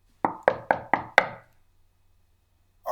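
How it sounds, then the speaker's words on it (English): Knocking on a door as a radio drama sound effect: five crisp, evenly spaced raps in quick succession, close and clear, followed by silence. "At which point came a knock on the door."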